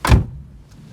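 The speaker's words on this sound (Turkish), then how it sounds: "Şu kapı kapanışına bir bakın." Car door of a Ford Fiesta or Hyundai Getz swinging shut in one solid, close thunk, followed by a brief quiet settle.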